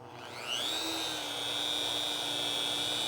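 A rotary polisher fitted with an extension spins up on a car's paintwork, rising quickly into a steady high-pitched whine with a low hum beneath, loud and close, holding evenly without talk.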